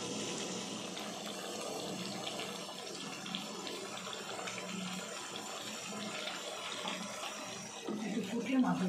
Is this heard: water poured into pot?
yes